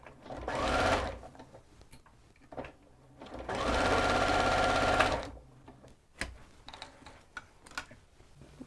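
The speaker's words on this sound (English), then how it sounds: "Sew down to the mark you made earlier." Sewing machine stitching fabric for a child's dress, two close bursts of rapid mechanical whirring, the second longer, with quiet clicks and handling noises in between.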